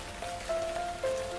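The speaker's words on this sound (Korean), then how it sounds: "오랜만에 비가 오네" Rain falls in a steady, soft patter, with faint sustained tones running over it.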